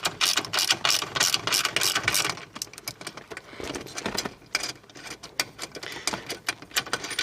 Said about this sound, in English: there's a 13mm machine screw that you need to remove.